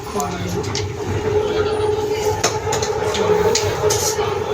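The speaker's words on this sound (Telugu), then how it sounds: "మెట్రో ట్రైన్ వచ్చేసింది" A metro train rumbles steadily with a sustained mechanical hum and occasional metallic clanks, as if pulling into a station; faint voices sit underneath.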